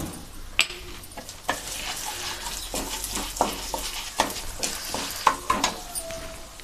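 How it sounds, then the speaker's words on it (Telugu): Fenugreek, coriander and cumin seeds dry-roasted in a pan, stirred with repeated scraping strokes and light rattling, close and steady with no talk. "జీలకర్ర ఒక హాఫ్ చెంచే ఇవన్నీ దొరగా వేయించుకోవాలండి"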